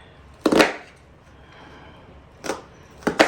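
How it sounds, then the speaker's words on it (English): A knife chops through a vegetable on a cutting board, cutting lengthways slices: three sharp, crisp cuts spaced apart, close and alone against a quiet background. "If you're chopping, you cut through, try not to cut through to the end."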